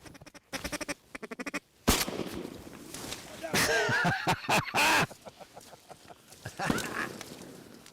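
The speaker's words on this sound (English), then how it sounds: "We were dive bombed by wood ducks right about the time legal shooting hours arrived." Wood ducks calling at dawn during a hunt at a plantation, with a series of nasal squeals and quacks up close, mixed with other sounds.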